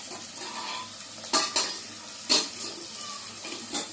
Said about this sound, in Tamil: இது வந்து பார்த்தீங்கன்னா நல்லா வதக்கணும்.